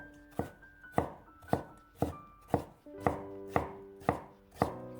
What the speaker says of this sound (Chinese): 一小块生姜先切成薄片